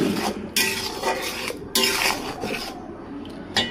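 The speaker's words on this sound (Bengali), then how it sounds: "এখন এটাকে ভালোভাবে নাড়াচাড়া করে দেব" Spices with turmeric, chilli powder and salt are stirred into mutton bhuna, a metal spatula scraping and clinking against the pan in several rough strokes, close and fairly loud, with no voices.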